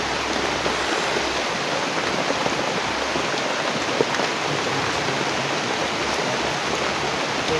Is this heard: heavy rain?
yes